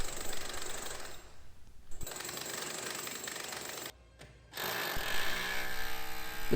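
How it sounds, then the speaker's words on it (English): Jackhammer breaking concrete around steel ballast inside a sailing ship's hull in drydock, hammering in continuous bursts with two short pauses. "Starting by removing the concrete that's holding the steel ballast in place."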